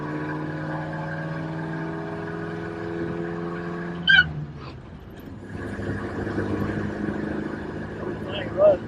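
A 1953 Buick engine, running again after over 30 years abandoned with its valves not yet adjusted, hums at a steady low idle and then picks up, with a couple of brief sharp squeaks and people talking nearby.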